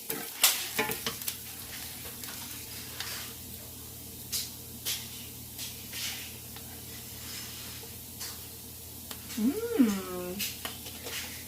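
Moussaka filling with cinnamon sizzles and fries in a pan while a spoon stirs it, producing a soft continuous crackle with scraping strokes and occasional clinks, close and quiet, with a brief vocal sound near the end.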